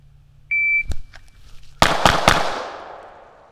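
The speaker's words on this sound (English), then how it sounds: "Now let's do 3 rounds on target here." Shot timer start beep followed by three sharp gunshots fired at a target in quick succession, close and loud, with echoing decay after the last shot.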